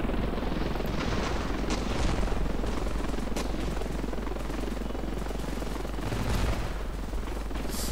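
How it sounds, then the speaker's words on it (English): Helicopter being destroyed in the Ravenfield video game: a dense, constant rotor roar with bursts of gunfire and explosion-like cracks layered on top, loud and unbroken. "how bad I am destroying helicopters"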